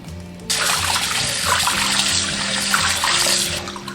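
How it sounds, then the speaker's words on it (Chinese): Water runs steadily from a tap as blanched beef tripe and offal are rinsed, a close, continuous gushing splash that starts abruptly and holds until the end. "牛肚跟牛杂也一起清洗"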